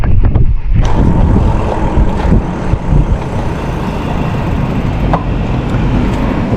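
Cars and a heavier vehicle pass close by on a roadway while an e-bike rider waits at a stop sign, a loud rumbling whoosh with strong wind buffeting on the microphone, steady and dense with no speech.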